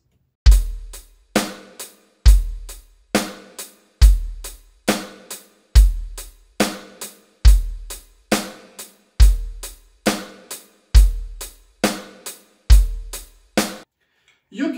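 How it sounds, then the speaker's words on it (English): Full beat on a Yamaha DTX452K electronic drum kit, with kick, hi-hat and snare on the third hi-hat stroke, looping steadily in a repeating groove for about fourteen seconds, close and punchy with no voices. "Lastly, we're playing snare drum on the third hi-hat stroke."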